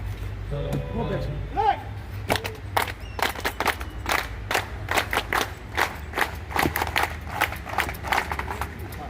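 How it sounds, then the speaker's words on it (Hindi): An audience at a rally breaks into claps that grow into a dense run of sharp, irregular hand claps, fairly close, following a brief voice at the start. "सब लोग ये धोनी के लिए एक ताली बजा सकते हैं"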